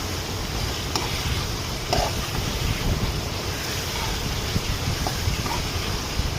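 Fried eggplant and potatoes being stirred into a dhaba-style curry with kasuri methi in a pan, giving a steady, fairly loud scraping and churning with a soft sizzle underneath, continuous throughout with no talking.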